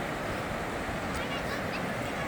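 A small river runs in winter, a continuous broad rushing wash heard close and loud, with a voice talking faintly over it.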